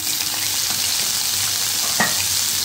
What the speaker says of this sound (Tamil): இப்போ ஆயில் நல்லா ஹீட் ஆகிருக்கு. கட் பண்ணி வச்சுருக்க முள்ளங்கி போட்டுருவேன்.